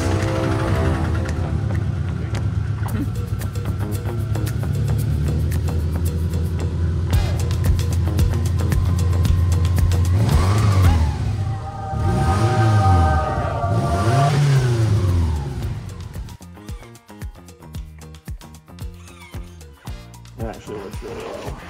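Car engine droning steadily, then swelling in pitch as the throttle is applied, rising and falling in revs before settling into a rhythmic ticking idle; close and loud, with speech in parts.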